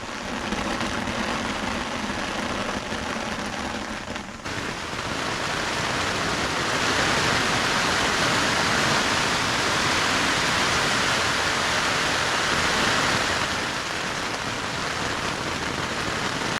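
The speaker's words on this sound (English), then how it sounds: "Okay, so I completely drenched this thing with a garden hose." A garden hose sprays hard onto a two-person tent, giving a dense, steady hiss like heavy rain on fabric that shifts in tone after a few seconds and continues loud and close throughout, with no voices.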